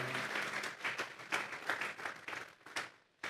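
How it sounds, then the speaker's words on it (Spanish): A church congregation at a Sunday service giving an offering of applause to God, a fairly quiet room of clapping with a slightly uneven, pulsing rhythm that tapers off near the end. "Vamos a darle una ofrenda de palmas a Dios en esta hora."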